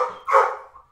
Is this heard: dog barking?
yes